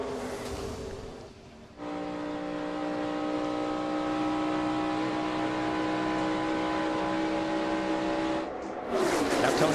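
Race cars roaring past at the Daytona 500, a sustained loud engine drone with steady tones that swells and holds, then shifts as the pack passes.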